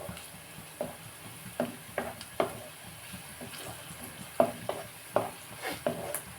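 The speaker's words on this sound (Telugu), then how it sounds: "ఉల్లిపాయ వేగింది కదండి" Onions fry quietly in a pan for a gutti vankaya curry, with a low sizzle under regular soft knocks and scrapes of a stirring spoon.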